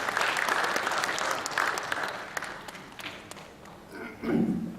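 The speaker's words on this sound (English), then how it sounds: "Please round of applause for Ghulam Haider." Audience applause at a lecture event in Melbourne, Australia, welcoming a speaker on stage; steady dense clapping from a crowd fills most of the stretch, thinning toward the end as a low voice begins.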